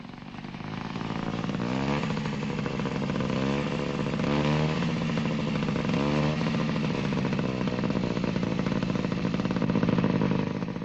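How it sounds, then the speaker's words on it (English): An Italian scooter fitted with dual learner controls runs steadily and loudly throughout, its engine note holding a continuous buzzing drone with slight rises in pitch, close by and with no talk over it. "this Italian scooter is fitted with a specially designed dual control to make learning to ride safer on the highway"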